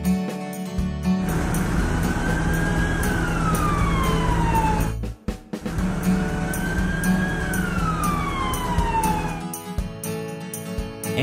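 A cartoon ambulance siren sounds two rising-then-falling wails in a row, separated by a brief break, layered over loud upbeat cartoon music with no voices.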